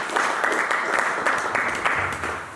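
Congregation clapping during a French-language church service, a steady dense patter of many hands filling the room throughout, with no voices rising above it.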